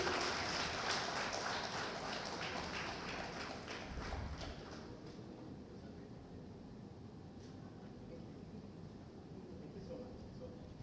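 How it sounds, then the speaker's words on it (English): An audience at an annual business meeting of IPB India claps in a dense burst of applause that starts strong and gradually thins and fades over several seconds. "Can we have a huge round of applause, please?"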